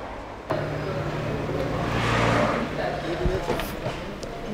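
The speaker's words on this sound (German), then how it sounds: "wir werden jetzt mal drei Räder durchdrehen lassen und mal gucken, ob er rauskommt mit dem vierten Rad" A 2020 Subaru Forester 2.0ie e-Boxer hybrid spins three wheels while trying to pull out on the fourth, a steady engine drone with wheel noise throughout as someone talks over it.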